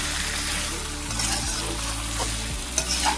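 Duck meat sautés and is stirred in a pan in a traditional village-style Bengali roast duck dish, with a steady close sizzle and spatula scrapes at intervals.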